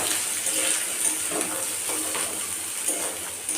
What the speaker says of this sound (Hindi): तो फ्रेंड्स देखुथे ड्राई फ्रुट्स हल्का फ्राई हो गलानी